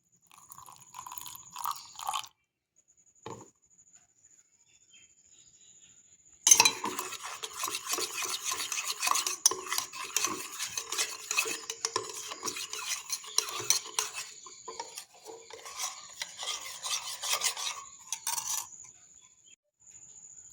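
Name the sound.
stirring custard powder into milk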